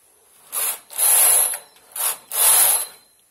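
Carriage of a hand knitting machine swept across the needle bed for two rows, each pass a close, dry rasping slide in two pairs of bursts, short then longer, with no one speaking.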